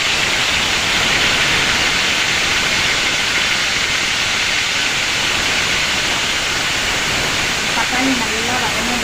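Tomatoes sizzle in hot oil with cumin while being sautéed for radish chutney, a steady loud hiss filling the whole stretch with no break.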